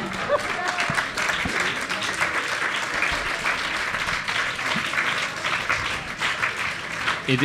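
An audience applauds after a literary interview with Juan Manuel de Prada, a steady spread of many hands clapping in a hall, moderately loud and continuous with no voices over it.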